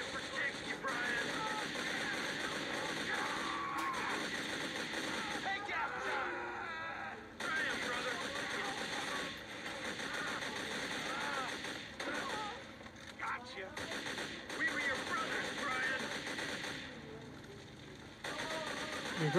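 Gunfire in the GTA video game comes as repeated sharp shots scattered through a dense, noisy game soundscape with engine drone, with people talking over the action throughout.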